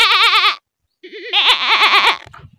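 A person imitates a goat bleating, giving a loud, wavering bleat, a short pause, then a longer quavering run of bleats close up.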